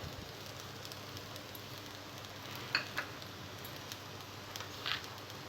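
Pieces of raw banana fry in hot oil in a pan, giving a soft, steady sizzle and patter with a few brief louder crackles, heard alone without talk.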